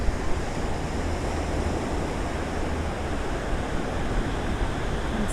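Waves breaking on the narrow beach at San Clemente, California, below the cliffs, heard as a dense, even roar of surf with no distinct individual breakers, continuous and fairly loud throughout, no voices.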